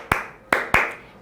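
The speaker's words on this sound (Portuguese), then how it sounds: "Batam palmas outra vez." Three sharp hand claps spaced unevenly, a crisp pair then a third close behind, loud and alone in a quiet room during a children's storytelling session.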